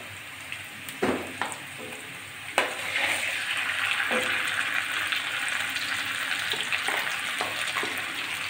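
Potatoes and green banana fry in a pan with white cumin paste, a continuous bright sizzle with a few sharp spatters and stirring clatters as the paste goes in.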